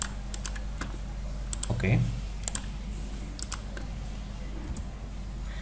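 Steady clicking of a computer keyboard as a database command is typed, with scattered sharper key taps over a low hum, and a voice speaking briefly.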